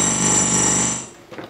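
An Oberheim OB-X synthesizer voice with a memory retention fault, a rich sustained buzzy chord that holds for about a second and then dies away, close and loud.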